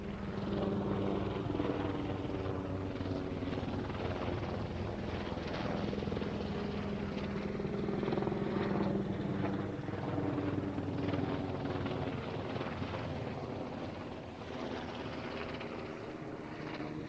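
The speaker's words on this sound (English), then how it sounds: "A couple of helicopters about to fly over in sync." A pair of helicopters fly over in sync above an Oxfordshire golf championship, their rotors making a continuous, throbbing drone that stays fairly steady for the whole stretch.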